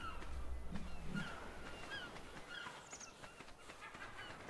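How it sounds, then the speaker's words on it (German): Seabirds calling in the game Ark: Survival Evolved, a few honking, gull-like cries at moderate volume over a steady outdoor ambience, with no voices. "Ich finde das schön, die imaginären Möwen hier."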